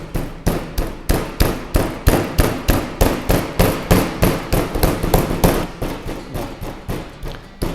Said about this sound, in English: Now take the hammer and just start beating the chicken.